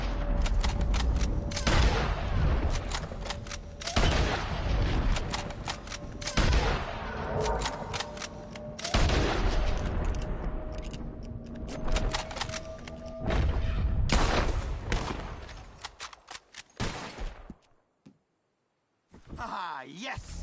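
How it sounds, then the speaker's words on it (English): Repeated loud gunshots ring out in Red Dead Redemption 2 during a bottle-shooting contest, sharp cracks spaced irregularly over many seconds with short quiet gaps, and people talk in between. "Whoever shoots more of these bottles wins."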